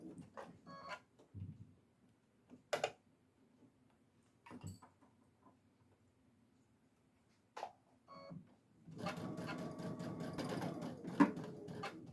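A sewing machine stitches a seam on a 4th of July placemat in several short bursts, then runs steadily near the end, close and fairly quiet with no talk.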